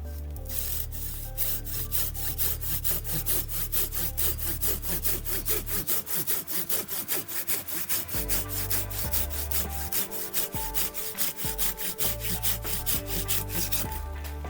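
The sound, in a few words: Japanese pruning saw cutting wood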